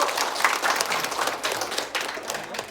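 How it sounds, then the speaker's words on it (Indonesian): At a school gathering, an audience of students and teachers claps in a dense, continuous burst of applause that stays fairly even throughout. "tepuk tangan buat kita."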